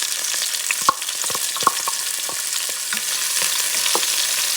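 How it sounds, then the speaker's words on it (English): Peppers fry in a pan for a sofrito base, giving a steady close hiss of sizzling oil with scattered pops and crackles and a few light stirring scrapes throughout. "Let me add the peppers,"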